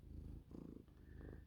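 A domestic cat purrs close to the microphone, a soft, steady rumbling in rhythmic cycles of breathing in and out, quiet and alone.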